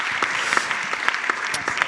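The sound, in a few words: audience applause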